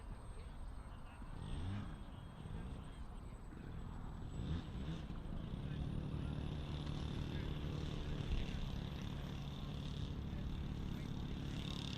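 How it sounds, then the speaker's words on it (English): Jet turbine and petrol engines of model aircraft starting at an airshow, a rising turbine whine climbing steadily over a buzzing propeller engine drone, with a commentator talking underneath. "I can hear certainly turbine and petrol."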